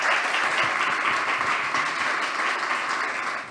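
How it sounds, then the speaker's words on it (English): Loud, continuous audience applause at a startup demo day pitch event, many hands clapping steadily before tapering slightly at the end. "a big applause for our third team"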